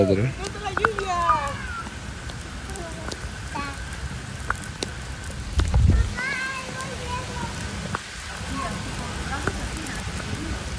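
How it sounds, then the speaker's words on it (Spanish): Steady patter of heavy winter rain on a surface, moderate and continuous, with a voice talking over it and a brief low thump midway. "está más fuerte la lluvia"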